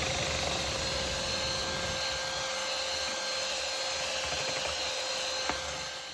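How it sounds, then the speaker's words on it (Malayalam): An electric egg beater whirs steadily while beating sugar for brownie batter, producing a constant close buzzing drone with no breaks. "അപ്പോൾ പഞ്ചസാര മൊത്തം ചേർത്ത് ബീറ്റ് ചെയ്തെടുത്തിട്ടുണ്ട്"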